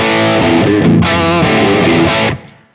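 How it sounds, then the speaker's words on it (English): An electric guitar through an amp with the preamp gain cranked rings out in thick, saturated distortion, loud sustained chords with a change partway through, then cuts off abruptly. "If I just now crank the gain, you're going to get a whole lot of preamp distortion."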